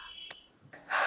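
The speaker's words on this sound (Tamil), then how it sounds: "ஐயோ ஏன் மூச்சு வாங்குது." A man in a Tamil romantic short film breathes heavily, a few sharp gasping inhales and breathy exhales close by, ending in a longer loud rush of breath, with no words spoken.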